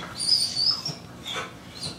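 A dog gives faint, thin high-pitched whimpers in short bursts near another dog, quiet against soft background noise.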